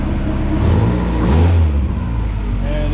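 Honda Integra engine, just repaired after a rod knock, runs steadily at close range with a brief rise in revs partway through, a continuous mid-pitched motor drone filling the short stretch.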